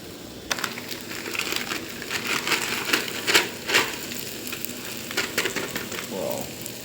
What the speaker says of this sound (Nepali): यो काँदा यो फ्राई भइसक्यो